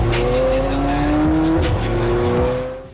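A McLaren 720S sports car drives past with a loud, rising engine note, tire squeal and some roughness from the road, heard up close for a few seconds.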